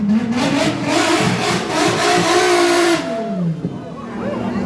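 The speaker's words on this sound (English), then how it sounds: "how can a car sound like that?" A car engine revs hard and loud with a boosty, rising and falling whine at a drag race, then cuts back sharply, leaving a lower idle with crowd noise around it.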